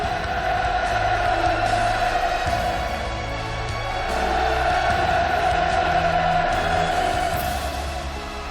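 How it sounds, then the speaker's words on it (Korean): A large crowd of young people roars a steady, massed hurrah, chanting and shouting in a continuous wall of voices that swells and sustains throughout. "원수님을 우러러 터쳐올리는 청년들의 폭풍 같은 만세 환호성과 결사옹위의 함성이 또다시 하늘 땅을 진감했습니다"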